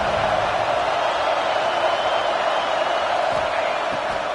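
A large stadium crowd at DKR roars steadily on third down during a football game, a loud, sustained wall of cheering and shouting without a break.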